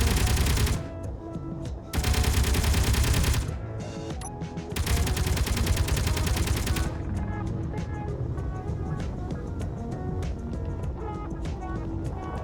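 Rapid automatic gunfire in the video game Space Engineers, loud dense bursts of several seconds each over a constant engine-like rumble and layered game sounds.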